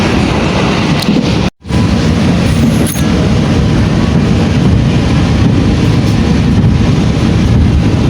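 Loud, continuous rumble and wind roar of a Batavia passenger train running at speed on the approach to Bekasi station, heard close from on board, with one brief dropout and faint clicks.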